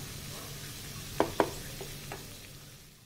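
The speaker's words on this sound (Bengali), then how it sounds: "এখন 1 মিনিট আমি ফুল ফ্লেমে ফ্রাই করে নেব পকোড়াটা।" Cabbage pakoda frying in oil over a full flame, a soft low sizzle with a few sharp clinks or pops early on, then the sizzle fades gradually. Close and alone, no voices.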